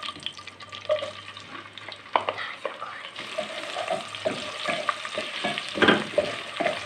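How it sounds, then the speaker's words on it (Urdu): Finely chopped onion fries in hot oil for matar pulao, sizzling steadily while a spoon stirs and scrapes the pot in irregular strokes, heard close and clear with no talking. "اور اب ناظرین اس میں ہم نے ڈالنا ہے صرف 1 قدر پیاز، ٹھیک ہے ناظرین،"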